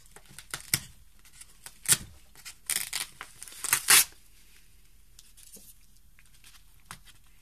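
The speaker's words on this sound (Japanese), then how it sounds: "メルカリで購入した、商品を開封します。" Paper packaging of a Mercari parcel holding manga books being torn and crinkled open, with several sharp rips and rustling bursts in the middle, fainter handling noises around them, no talking.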